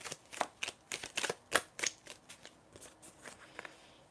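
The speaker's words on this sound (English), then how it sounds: "I'm going to shuffle some tea leaf cards for you" Tea leaf cards being shuffled by hand during a tarot reading, a run of quick crisp riffling flutters and slaps in irregular bursts, close and fairly quiet with no voices.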